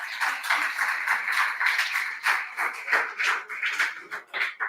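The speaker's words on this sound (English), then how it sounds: "Give him a round of applause." An audience gives a contestant a round of applause at the Susky Slama 5 Jama Awards, a few people clapping in loose, uneven bursts that thin out toward the end.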